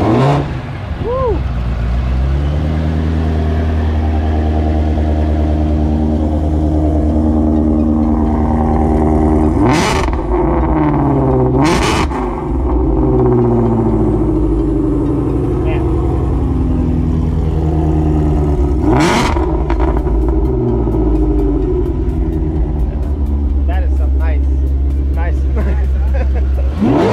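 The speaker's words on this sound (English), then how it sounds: "I'm gonna start it and then open up the exhaust after that." Modified Ford Mustang Shelby GT350 rated at 840 hp, its engine running loud and steady with the exhaust opened, punctuated by several sharp revs that climb and fall back to a rumbling idle. A voice cheers briefly.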